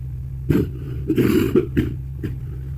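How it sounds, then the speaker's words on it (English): A few short, rough coughs from one person, spaced apart over a steady low background hum, fairly close and moderately loud. "my cough seems to be getting worse."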